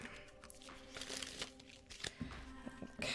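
Playing cards shuffled by hand at close range, a run of soft crinkly riffles and rustles over about three seconds, with small sharp snaps near the end and no talking.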